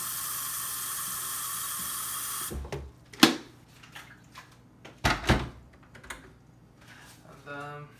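Hot water gushing from a tap into a container at home, a steady broadband rush for a couple of seconds, then it cuts off, followed by clinks, knocks and handling noises.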